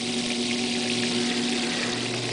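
A Maytag A882 washing machine pumps out soapy water, giving a steady motor hum and a continuous rushing gush of liquid, fairly close and uninterrupted.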